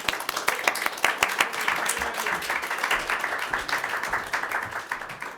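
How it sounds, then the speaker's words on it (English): Audience applause after a speaker is introduced at an academic event on queer Italian American writing, steady broadband clapping from a room of listeners lasting several seconds, with some scattered louder claps near the start. "Let's give a round of applause to Ryan."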